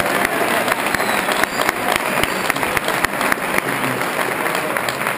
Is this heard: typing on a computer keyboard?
no